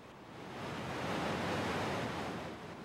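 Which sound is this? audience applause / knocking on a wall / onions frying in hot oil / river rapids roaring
river rapids roaring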